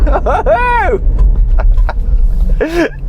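An INEOS Grenadier off-roader's engine rumbles low and steady as it climbs a slippery slope, the drone continuing beneath a man's spoken remarks.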